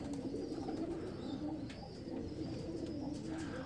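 Pigeons at a loft in Pakistan coo in soft, low, rolling phrases that repeat steadily throughout, with faint chirps over a quiet, continuous background.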